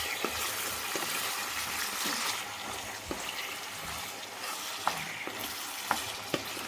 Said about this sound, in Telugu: ఇప్పుడు ఇందులో ఈ రొయ్యలు వచ్చేసి వేసేసాను కదండి. వేసిన తర్వాత దీన్ని ఈ ఆనియన్స్లో ఇలా కలిగి పెట్టుకొని